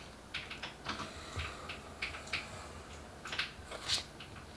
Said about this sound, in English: if you guys do hear a keyboard in the background, that is my lovely husband who's using his computer